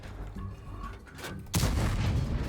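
A tank cannon fired blind in a video game, one loud close boom about halfway through, followed by a rumbling tail over engine noise.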